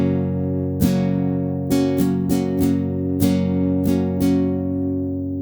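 A slow strumming pattern on an acoustic guitar, with sharp down and up strokes ringing out over sustained chords at an even, unhurried pace, close and clear, without any voice.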